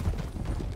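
Horse hooves clip-clopping in Red Dead Redemption 2, a short run of low, muffled thuds in a quick steady rhythm, close and fairly loud.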